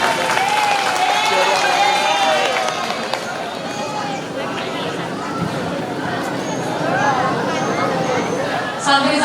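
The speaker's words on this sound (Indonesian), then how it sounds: "kasih tepuk tangannya dulu" Applause from a crowd of santri at a National Santri Day ceremony, with dense clapping and crowd chatter running steadily throughout, voices and cheers mixed in.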